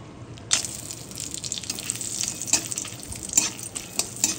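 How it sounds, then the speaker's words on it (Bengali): Bay leaves and whole spices hit hot oil in a kadai for tempering, a sudden loud sizzle bursting in after a short silence and crackling steadily on with sharp spatter pops. "আর এদিকে আমি দেবো ফোড়নের তেজপাতা, তেজপাতা এটা,"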